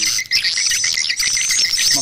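Bird call played to lure birds from a swiftlet house, a loud close run of rapid high chirps and twittering tweets repeated continuously, with no talk.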